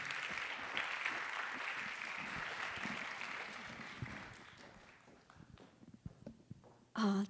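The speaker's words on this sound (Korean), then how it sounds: "Let's give Dr. Joe another round of applause." Audience applause after a guest lecture at a global leader talk series, a dense sustained clapping that fades over several seconds, ending with a brief loud burst at the close.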